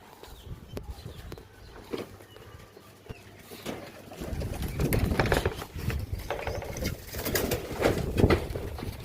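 Pigeons coo softly in a loft while being caught for training, the low cooing mixed with flapping, shuffling and handling noises that grow busier toward the end.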